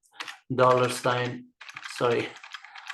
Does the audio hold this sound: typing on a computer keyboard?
yes